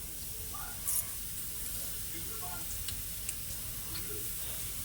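Food fries in a hot pan with a dense, steady hiss and sizzle throughout, with faint clicks and small pops scattered over it and a hint of voice in the background.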